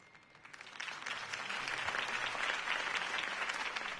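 A crowd in the Batman Telltale video game applauds Harvey Dent's campaign speech, clapping that swells from a quieter start into a full, steady round of applause.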